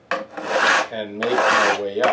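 A flat file rasps along guitar frets during a partial refret, in a few long, close strokes with short pauses between them, while someone speaks briefly.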